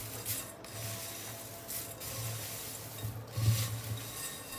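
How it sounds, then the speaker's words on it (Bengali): Crispy deep-fried onion slices (beresta) rustle and crunch in a dry, raspy way as they are stirred and rubbed, close and steady with a few louder bursts, with no voices. "শুনতেই পারছেন পেঁয়াজ বেরেস্তাগুলো কতটা বেশি ক্রিস্পি হয়েছে"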